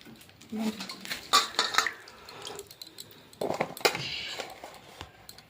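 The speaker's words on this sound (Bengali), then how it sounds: "পেঁয়াজটা কেটে নিচ্ছে, পেঁয়াজ কাটা হয়ে যাবে" Kitchen clatter of a knife and onion being cut, with dish and utensil knocks in two clustered bursts during chicken recipe preparation, close and moderately loud with no talk.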